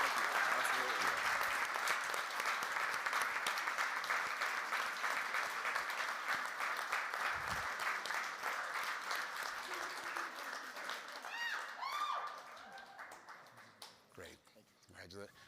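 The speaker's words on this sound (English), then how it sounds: "Big round of applause for everyone." Applause at an innovation challenge event: a large crowd claps loudly and continuously, then the clapping thins and fades toward the end while a few voices and a brief whoop come through.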